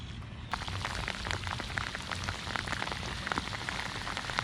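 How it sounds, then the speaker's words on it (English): Steady light rain pattering by an urban pond, a dense patter of drops close by with no voices. "light rain, and it's picked up a little bit more now"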